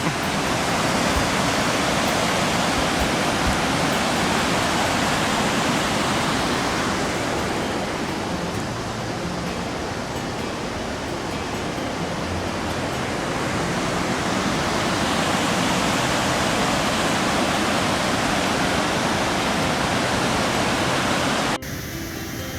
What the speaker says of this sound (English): Here we are at Devil's Cascade.